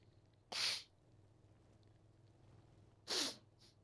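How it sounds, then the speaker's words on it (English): Two sharp stifled sneezes a few seconds apart, each a short hissing burst, heard close over a faint low hum during a session of the video game ARMA 3, with no talking. "You're trying to hold back a sneeze because you're being recorded."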